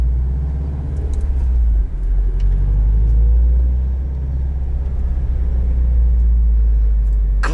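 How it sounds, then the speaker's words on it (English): A 2021 Subaru WRX STI Limited's boxer engine with unequal length headers rumbles steadily and close, a deep continuous burble with no voices over it. "This retains the unequal length headers that give it that distinctive boxer sound."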